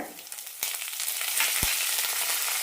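Parboiled rice, chana dal, black pepper, coriander seeds and curry leaves are dry-roasted in a pan, giving a soft, continuous hiss and rustle that grows slightly louder, with one faint low knock partway through.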